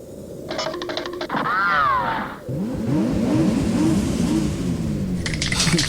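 Mad Max Fury Road style sound effect: rushing wind, then a car engine revving up in rising, wavering pitch sweeps, loud and near, with no talking.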